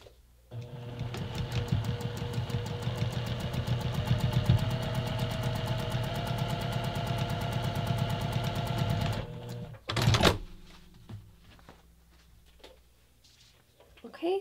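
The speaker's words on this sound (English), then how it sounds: "take it over to the sewing machine" A sewing machine stitches a quilted holiday ornament in a fast, even rhythm for several seconds, then stops, followed by a brief clunk and quiet handling.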